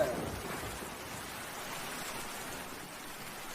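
Steady rain falling in a cartoon, a continuous soft hiss of rainfall throughout, even and moderately loud with no clear drops standing out.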